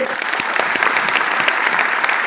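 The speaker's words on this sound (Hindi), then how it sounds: "उनके लिए तालियां तो बजनी चाहिए" An audience at a success-story talk breaks into dense, sustained applause that holds evenly across a short stretch, with no voices over it.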